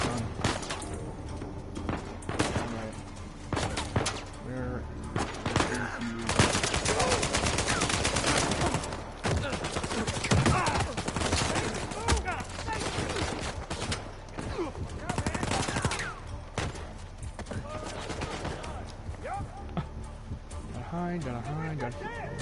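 Rapid bursts of gunfire from a newly picked-up gun in Uncharted 4, sharp repeated shots in clustered volleys with brief pauses, close and loud over game sounds, with a voice talking in places.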